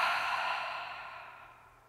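A long, steady exhale out through the mouth during a yoga breathing exercise, a close breathy rush that fades slowly over about two seconds, with no talking.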